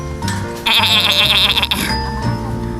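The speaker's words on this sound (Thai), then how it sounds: "กินเยอะๆนะเจ้าแกะเจ้าแพะ" Sheep and goats bleat loudly and close by while being fed, one long wavering bleat dominating the middle with softer animal calls around it.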